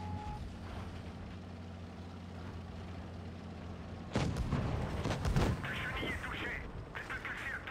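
Tank cannon fire in the mobile game World of Tanks Blitz: a steady engine rumble gives way to a couple of loud bursts and crashing impacts midway, with game sounds carrying on after.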